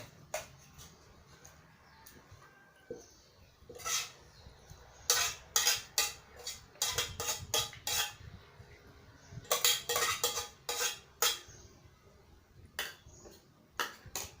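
Food is set onto a plate while making Lao-style koi khom with sticky rice: light clinks and scrapes of utensils against dishware come in scattered clusters, quiet and close, over a faint background hum.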